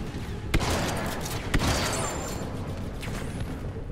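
A video game shotgun fires two sharp blasts about a second apart over a dense, continuous wash of battle noise and game sound.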